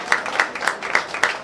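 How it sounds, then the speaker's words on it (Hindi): An audience at a Bollywood event applauding, a brief burst of rhythmic clapping with about five pronounced beats over a crowd of scattered claps, close and moderately loud. "आप लोग एक बार जोरदार तालियां बजा दें"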